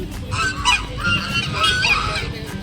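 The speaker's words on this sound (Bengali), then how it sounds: "যেমন ভাবে হাঁসগুলো ডাকছে" Ducks calling repeatedly at Mirik Lake in loud, honking quacks, several birds overlapping close by with no talking.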